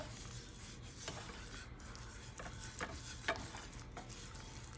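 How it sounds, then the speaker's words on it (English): Butter and flour roux stirred in a pan on the stove for chicken enchiladas, a steady soft scraping and swishing with faint sizzle, punctuated by occasional louder utensil strokes against the pan, close and unaccompanied by talk. "That is the reason you add the butter and the flour at the same time."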